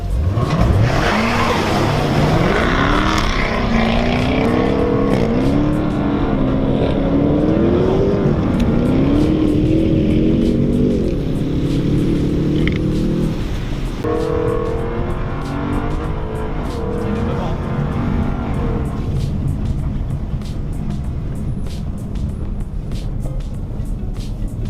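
A Range Rover SVR at full throttle, its engine roaring loud and close with rising and falling pitch as it climbs through the gears, over constant road and wind noise.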